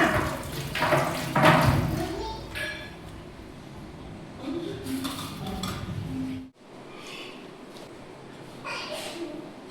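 Raw peanuts are rinsed with running water in a kitchen, a steady splashing wash with clattering of a bowl and a sudden cut partway through, faint voices present in the background.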